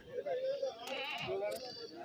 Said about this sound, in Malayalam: ശരിക്കും ആട് വന്നിട്ടുണ്ട്